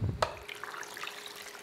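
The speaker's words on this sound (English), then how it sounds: "add some water" Water poured from a tap into a pot of turmeric-seasoned chicken, a brief splash and trickle, close and fairly quiet.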